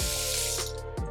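Water streams steadily from a touchless kitchen faucet into a sink, a close hiss with a brief interruption near the end.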